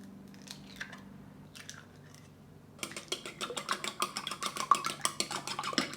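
Two eggs being lightly beaten for shrimp scrambled egg: after a quiet start with a few faint knocks, a fork ticks rapidly and steadily against the bowl, close and fairly soft.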